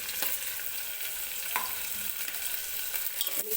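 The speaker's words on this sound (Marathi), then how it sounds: "कांदा सॉफ्ट होईपर्यंत आपल्याला तेलामध्येच भाजून घ्यायचं आहे" Chopped onion and garlic frying in oil for dal khichdi, a steady crackling sizzle with a few stirring scrapes, close and continuous with no voices.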